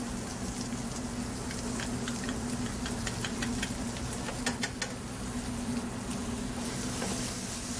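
Steady, dense sizzling of onion and garlic frying in a hot pan, a continuous crackle with scattered pops and no voices.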